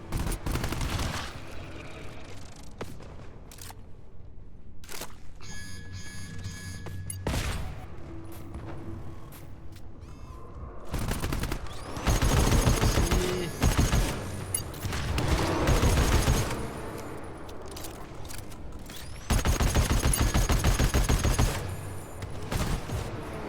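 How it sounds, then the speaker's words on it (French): Gunfire in the co-op shooter video game GTFO: scattered single shots give way to loud, sustained bursts of automatic fire with booming impacts, heavy and close, in several intense volleys over the stretch. "j'ai tiré sur quelqu'un"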